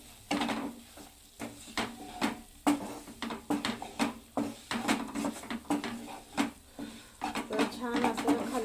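Coarsely ground peanut paste stirred in a cooking pan, with steady scraping and clinking of a spoon against metal in rapid irregular strokes, close up and fairly loud, a voice speaking in between.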